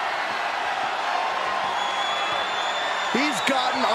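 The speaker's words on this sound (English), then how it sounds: "The sound of this crowd is deafening, and he's asking for more." A large wrestling arena crowd during an ambulance match roars in a steady, dense wash of cheering, with a few louder shouts and whoops rising near the end.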